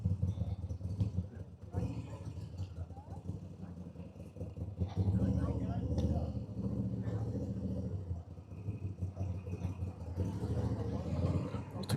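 A 2026 Moto Guzzi V7 Sport in first gear gives a steady low engine rumble that swells louder partway through and then holds, with a person talking intermittently over it.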